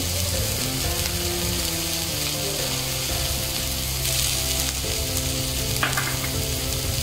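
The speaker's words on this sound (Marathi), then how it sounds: "आता यात आपण बारीक चिरलेली शिमला मिर्च घालूया" Chopped capsicum tossed into onions already frying in a pan, giving a loud, steady sizzle with occasional stirring scrapes throughout, close and unbroken, with no voices.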